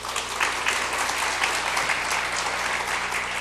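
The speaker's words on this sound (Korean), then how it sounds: "큰 박수 좀 보내주시기 바랍니다." Congregation applause at a Korean church mothers' prayer meeting, a dense, steady round of clapping heard on its own throughout.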